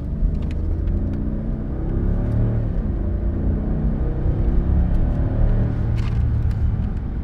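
A Maybach accelerating in sport mode gives a deep, steady engine rumble and road roar heard from inside the cabin, building gradually with faint ticks and clicks above it.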